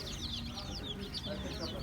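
Bantam chicks, five black and five red, peeping in a rapid, continuous high chatter close by, with low background rumble throughout.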